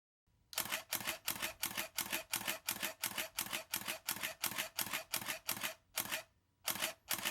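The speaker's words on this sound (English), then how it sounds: "We'll have a listen now to the shutter sound and the buffer." A Sony Alpha A100 DSLR fires a rapid burst of about fifteen close shutter slaps in even rhythm, then slows with a couple of spaced final clicks as the buffer fills.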